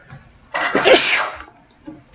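A single loud sneeze bursts out alone in a quiet room, a sharp burst with brief faint sounds before and after.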